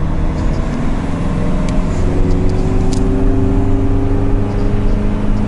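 A car pulls away from motorway toll gates late at night, its engine droning steadily with a low rumble and gradually rising tone, loud and continuous throughout.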